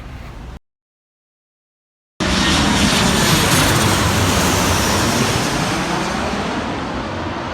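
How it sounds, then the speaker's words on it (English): An airplane flies overhead above a street, a loud broad engine roar that sets in suddenly after a brief gap and holds steady, slowly easing off toward the end. "a plane's gonna fly over any second"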